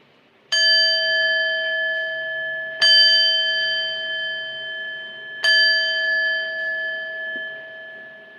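A bright bell chime rings three times at an even, unhurried pace, each strike loud and close and left to ring out before the next, with no talking over it.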